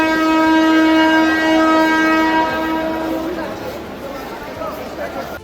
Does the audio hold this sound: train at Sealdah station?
yes